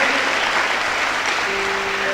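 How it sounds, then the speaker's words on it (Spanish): A church congregation applauds loudly and steadily throughout, a dense wash of clapping filling the space, with a faint sustained tone entering near the end. "¿Cuántos le pueden dar un aplauso al Señor entonces?"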